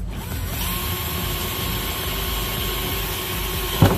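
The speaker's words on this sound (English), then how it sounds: "We're using a 5/16 drill bit." A power drill with a 5/16 bit whines steadily at close range for several seconds, drilling a hole for a car license plate bracket, a continuous high motor hum ending with a brief clunk.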